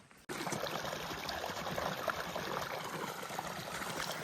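Water runs steadily outdoors, a broad continuous rushing stream that starts suddenly after a brief quiet moment and keeps on at an even level, fairly close.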